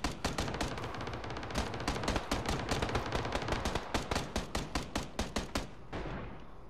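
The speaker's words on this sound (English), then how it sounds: "I just got sniped." Rapid bursts of rifle fire in PUBG, a fast train of sharp evenly spaced cracks lasting several seconds, then slowing into separate distinct shots toward the end, fairly close and loud.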